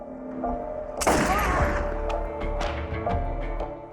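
A gunshot in a true-crime reenactment, one sharp loud blast followed by a rumbling tail and scattered clatter.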